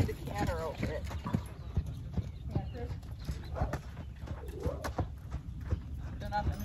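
A Tennessee Walking Horse canters over ground poles, its hooves thudding in a quick, rolling rhythm at moderate distance while a trainer talks over it.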